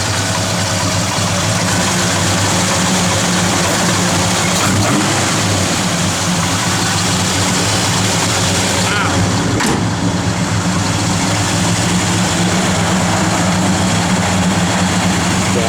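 A 1970 Chevrolet Chevelle SS V8 with a mild low cam idles steadily up close, a continuous low rumble throughout with a brief shift around the middle, while a person talks over it.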